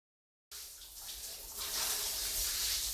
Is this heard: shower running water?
yes